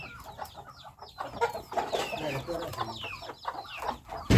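Chickens cluck and cackle on a village farm, a busy overlapping chorus of close hens with quieter voices talking underneath and a sudden thump at the end.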